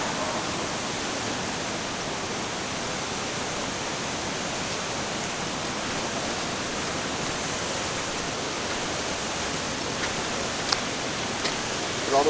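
Stuyvesant Falls, a waterfall in Upstate New York, gives a steady, dense rush of falling water that holds even and loud throughout, with no voices over it.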